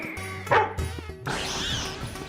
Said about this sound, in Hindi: शेरू इनको देख के भौंक क्यों रहा है?